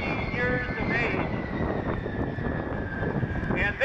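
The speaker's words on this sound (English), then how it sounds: "this airplane, the B-52, will still be in the air" A B-52 Stratofortress bomber flies past at an air show salute, its steady jet engine roar filling the whole stretch with broad rumble and wind buffeting, while an announcer talks over it.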